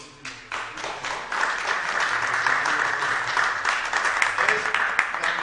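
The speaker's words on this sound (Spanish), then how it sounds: "Bravo, un aplauso por último." Audience applause fills a hall at a legal talk, dense clapping swelling after a soft start and holding steady and fairly loud to the end, with a few sharper claps standing out.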